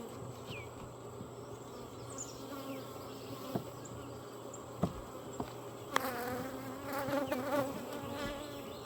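Honeybees buzz in a steady, dense drone while a hive frame is checked for brood, with a few sharp knocks and a louder burst of movement near the end.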